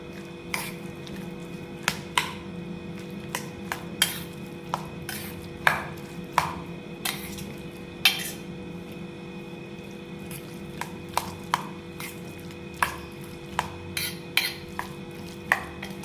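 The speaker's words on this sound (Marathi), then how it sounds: "बघा सगळं मिक्स करून घेऊ." Potato masala for pani puri is mixed in a bowl, a spoon knocking and scraping against the dish in irregular clinks over a faint background hum.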